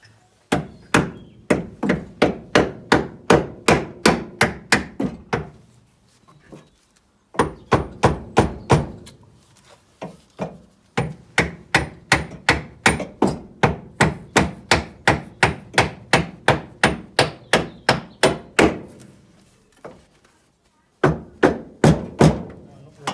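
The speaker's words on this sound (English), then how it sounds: "No, get the mallet. Can you just pass me the mallet?" A mallet hammers on an Austin Allegro's Hydragas suspension during its replacement, with loud, close, evenly paced blows in long rapid runs broken by brief pauses.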